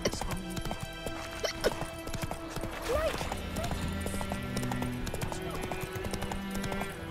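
Horse hooves clip-clop steadily at a walking pace in the Witcher 3 video game, a rhythmic series of close knocks layered under game music and voices.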